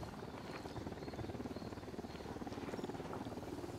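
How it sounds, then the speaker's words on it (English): Patrolling helicopter in the Ghost Recon video game, a steady rhythmic rotor chop holding at a moderate distance throughout, with no talk over it. "The Unidad helicopter is still patrolling the field up ahead."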